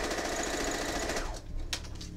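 A sewing machine runs steadily as it stitches quilt pieces together, its rapid mechanical whir close and loud, then slowing and stopping with a few lighter clicks and handling sounds afterward.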